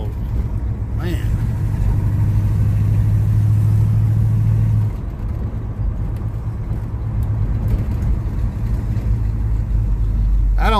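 A Chevrolet Monte Carlo engine running after a cold start, a steady low rumble with a strong droning tone for the first half that then settles, continuous and close throughout.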